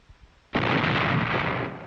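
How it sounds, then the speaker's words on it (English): A single heavy artillery or mortar blast from the 1945 battle on Okinawa erupts suddenly after a quiet half second, then rolls on as a sustained roar. "Casualties mounted as the enemy lashed back with artillery and mortars to prevent encirclement."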